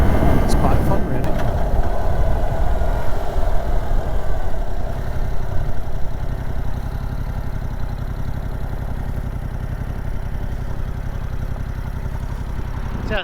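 A 2022 Yamaha R7 motorcycle engine runs loud and close, its rumble building briefly then settling into a steady drone as the bike rides off, with no break in the sound.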